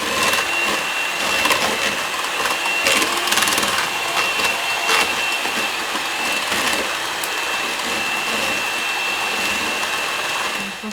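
Electric hand mixer whipping cupcake frosting in a home kitchen, a continuous buzzing whir with rattling beaters scraping the bowl, steady and fairly loud for the whole stretch, without speech.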